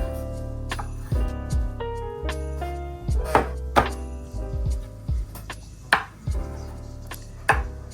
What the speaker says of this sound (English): let's just admire the chopping skills